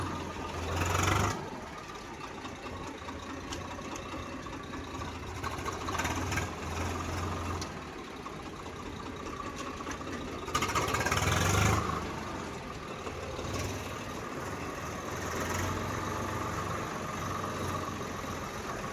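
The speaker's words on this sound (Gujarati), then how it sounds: "3 મહિનાથી ટ્રેક્ટર અહીંયા જ પડ્યું હતું, એટલે આને ચાલુ કર્યું" A tractor, just started after sitting three months in a shed, idles in a steady, low rhythmic chug, close by, with a couple of louder revving swells along the way.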